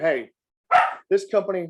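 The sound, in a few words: dog barking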